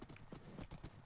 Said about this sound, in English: This horse is so fast.